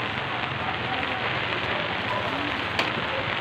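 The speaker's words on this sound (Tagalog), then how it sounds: "Ulan lang." Steady rain falls on surfaces in a continuous hiss. The sound is moderately loud and unbroken, with one brief sharp tap near the end.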